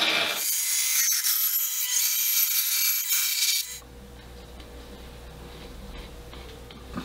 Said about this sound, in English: Here I'm cutting the olive wood bindings.